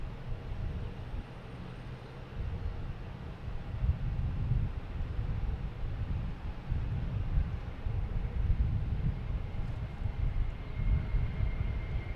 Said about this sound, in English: next coming in, we have Southwest. Coming in from Baltimore, 737, flight 4125